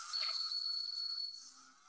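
A toy bear automaton rings a thin, steady high-pitched tone like a small telephone bell, holding for over a second and then fading, with a faint low tone near the end.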